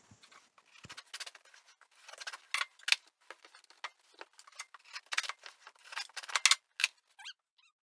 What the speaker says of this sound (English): I will scoop out all of the seeds and the pulp that are in here